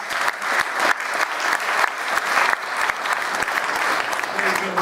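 Audience at a Ternopil theatre award ceremony applauds steadily for the whole stretch, a dense, sustained clatter of many hands at fairly loud level, with a voice occasionally audible underneath.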